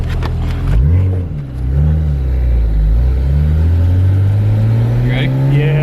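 A twin-turbo BMW 335i with the N54 engine pulls hard in first gear. The engine note is loud and close, rising steadily after a brief dip, and a person talks briefly over it early on.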